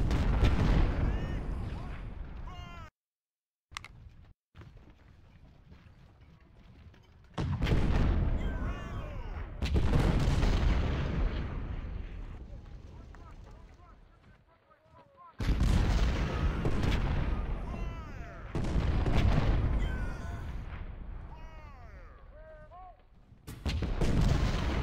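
Booming 6-pounder cannon fire and crackling musketry fill a Civil War battle in the strategy game Ultimate General: Civil War, with heavy volleys in dense bursts separated by short quiet gaps.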